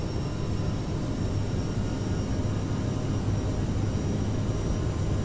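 CRJ700 jet engines at takeoff power in Microsoft Flight Simulator, a loud, steady, broadband roar with a low rumble that holds evenly throughout, with no talking.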